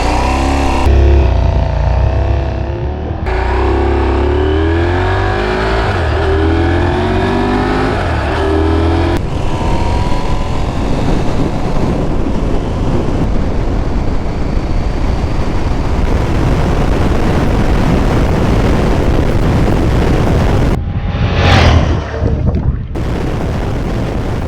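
A KTM 790R motorcycle rides across an open playa, its engine droning and shifting in pitch under strong rushing wind noise, loud and close throughout.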